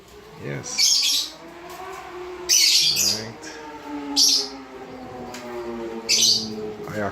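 Pet birds kept for breeding squawk loudly in four harsh bursts spaced a second or two apart, close by, with lower sounds between calls.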